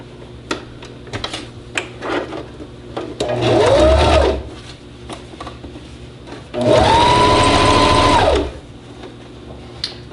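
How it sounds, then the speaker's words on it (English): A sewing machine runs a straight stitch along the top of a serged seam on a romper, in two steady bursts of whirring with light clicks and handling noises in the pauses between. "do a straight stitch right on top of that serged seam"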